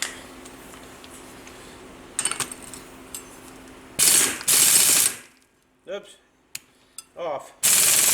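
Big ratchet fitted with a 1 1/16 inch socket loosening a nut on a Polaris RZR 800, giving short bursts of rapid pawl clicking separated by pauses and a few louder metallic clunks, close by.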